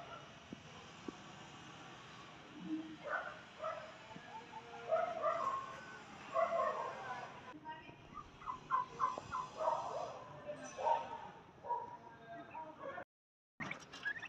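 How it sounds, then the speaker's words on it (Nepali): Baby turkeys kept on a home terrace give repeated gobbling calls in uneven bursts over about fourteen seconds. The calls are fairly faint and close, with short gaps between them and no speech. "मेरो बेबी टर्कीहरू"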